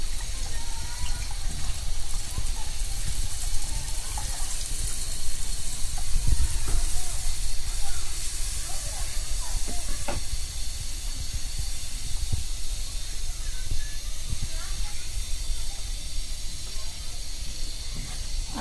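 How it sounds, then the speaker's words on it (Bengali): Coconut milk is added to a pan for Bengali prawn kofta korma and hisses and sizzles steadily. A broad, even bubbling hiss runs throughout with a few small pops. "এবার আমি নারকেল দুধ দিয়ে দিব বাকিটা"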